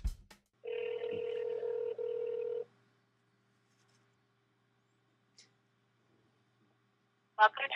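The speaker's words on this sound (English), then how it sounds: "So we'll start that by dialing 1-800-WX-BRIEF." A telephone line tone while dialing a 1-800 number, a steady two-second tone followed by silence and a few faint clicks and short bursts.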